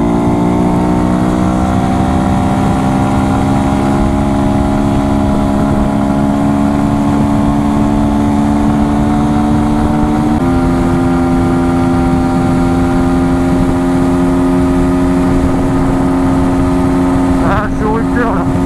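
A 125cc motorcycle engine drones loud and steady at high revs against the rev limiter around 115 km/h, pitch holding flat then stepping up once, with wind roar throughout and no speech.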